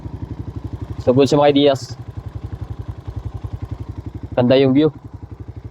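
A Kawasaki KLX 150 motorcycle with a carburettor idles nearby, its steady rhythmic low putter running throughout while someone speaks twice over it.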